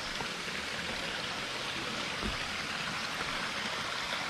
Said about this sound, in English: Water's running off, so that's a good sign.